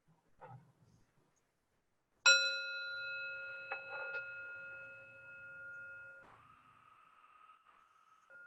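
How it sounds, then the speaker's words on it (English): A single bell is struck once at a spiritual gathering. It opens with a sharp strike, then a clear ringing tone that holds steadily and slowly fades. Faint room sounds sit before it, with no talk over the ring. "I will ring the bell."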